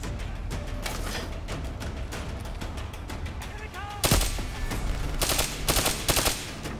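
Rapid gunfire in the video game Call of Duty: Black Ops 3, bursts of automatic shots crackling throughout, louder and denser near the end, with a player talking over the action.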